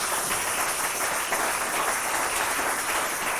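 A church congregation applauds in praise of Jesus Christ, a steady, loud wash of many hands clapping together without pause, with no voices standing out.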